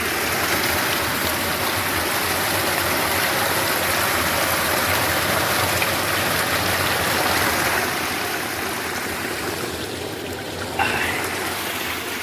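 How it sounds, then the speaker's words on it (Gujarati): Water pouring steadily into a bottle on a farm, a continuous close rushing trickle that runs for most of the stretch and eases near the end, no talk. "બાટલો ભરી લીધો બાટલો ભરીને મૂકીએ ખેતરમાં"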